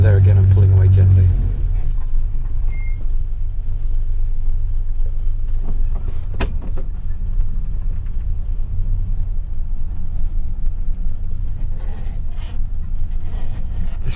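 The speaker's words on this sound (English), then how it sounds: "then back onto the throttle and pull away, and there again I'm pulling away gently" A 1949 Dodge pulling away gently in top gear, its engine giving a low, steady rumble heard from inside the car, while someone talks over it nearly the whole time.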